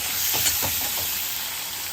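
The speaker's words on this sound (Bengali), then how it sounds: "গরম তেলে সামান্য নাড়াচাড়া করে এই চিংড়ি মাছটা আমি ভেজে প্লেটের মধ্যে তুলে নিচ্ছি" Tiger prawns frying in hot oil give a steady close sizzle with brief stirring scrapes early on, no voices.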